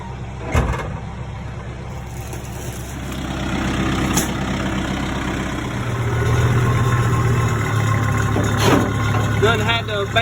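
An old Kubota farm tractor runs on a summer food plot, its diesel engine chugging with a low, steady drone that swells louder midway, joined by a few sharp clanks and short bursts of noise.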